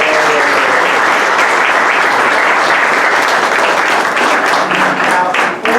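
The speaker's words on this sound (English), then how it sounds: "Give our Grand Marshal a big round of applause." A parade crowd at the Delano Veterans Day Parade breaks into loud, sustained applause for the Grand Marshal, steady and dense for several seconds with a few voices mixed in.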